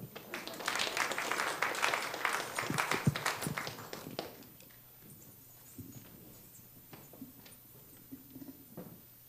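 A congregation at an Erev Rosh Hashanah service claps, a burst of scattered hand claps lasting several seconds before thinning out to a few sparse claps in a quiet room.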